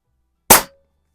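A Pinty Striker .25 caliber bullpup air rifle fires a single sharp, loud shot, a crisp crack that decays within a fraction of a second, leaving a faint metallic ring against otherwise quiet surroundings.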